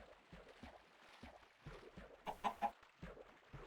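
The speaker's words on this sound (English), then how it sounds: "These chickens are going to start laying eggs." Chickens clucking in a video game, repeated soft rhythmic clucks at a steady pace with a brief louder squawking burst near the end, faint and fairly quiet with no talking.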